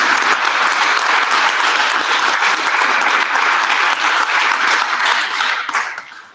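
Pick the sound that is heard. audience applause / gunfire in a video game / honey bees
audience applause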